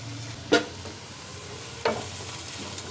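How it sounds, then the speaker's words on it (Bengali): Vegetables dusted with turmeric are stirred in a frying pan: two distinct scraping strokes of a spatula over a soft, continuous background sizzle. "হলুদ দিয়ে একটু ভালো করে নাড়িয়ে নেব।"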